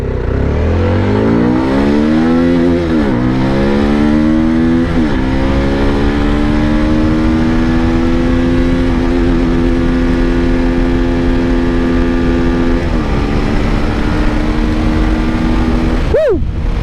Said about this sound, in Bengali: এই তিনশো সিসির বাইকটা থার্ড গিয়ারে ম্যাক্সিমাম স্পিড কত উঠতে পারে